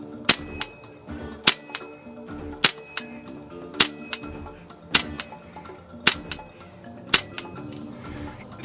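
A Novritsch SSQ4 gas airsoft pistol fires a string of sharp, close cracks, each followed by a softer clack, spaced about a second apart.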